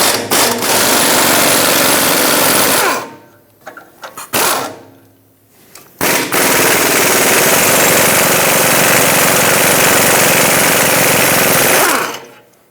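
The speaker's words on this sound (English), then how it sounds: "Use a 15mm socket and remove the two mounting nuts holding the pipe onto the manifold." An impact power tool fitted with a 15mm socket loosens the exhaust pipe mounting nuts at the manifold of a 1999-2016 Ford E-350, hammering loudly and close in two long bursts separated by a short pause with small clanks.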